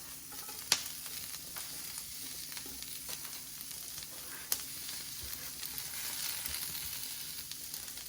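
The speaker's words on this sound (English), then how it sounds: "Here it's sizzle." Steady sizzling of thinly sliced Brussels sprouts on a preheated hot platter, a continuous crackling hiss with a couple of sharp pops, no voices.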